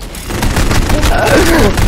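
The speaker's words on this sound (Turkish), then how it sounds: "Ya aracın patlaması ya." A vehicle blowing up in the battle royale shooter Warzone, a loud sustained blast with crackling gunfire-like bursts, close and dense, under excited voices.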